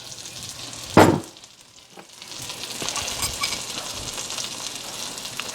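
Olive oil sizzling in a frying pan with cilantro as ingredients hit the hot oil, a sharp burst of frying at first that settles into a steady, close crackling hiss.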